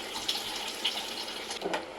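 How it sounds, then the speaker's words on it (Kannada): Water pours steadily onto rice for a couple of seconds with a splashy, gushing hiss, close by and uninterrupted by any voice. "ನೀರು ಹಾಕಿದ್ಮೇಲೆ ಸ್ವಲ್ಪ ಈ ಥರ ಕೈ ಆಡಿಸ್ಕೋಬೇಕು."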